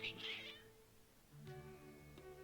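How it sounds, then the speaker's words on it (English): Cats from the video game Genshin Impact meow in a couple of close, tonal cries, the first higher and wavering, the second lower and longer, over soft background music. "Your cats seem pretty worked up."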